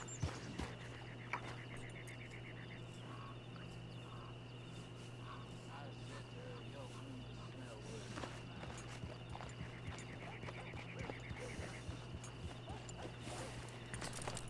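A horse's hooves clip-clop steadily in Red Dead Online, a faint rhythmic walking gait under a constant low hum, with occasional quiet speech in the mix.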